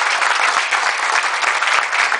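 Steady, dense applause from an audience greets a Rio carnival samba singer at a seminar, sustained and fairly loud throughout with no pauses.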